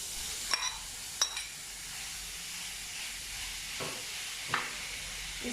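Minced meat sizzles steadily in a hot pan while a spoon scrapes and stirs it with a few sharp clinks against the pan, close and moderately loud.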